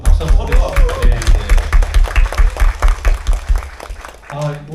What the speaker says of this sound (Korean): 그리고 박수 한번 서로가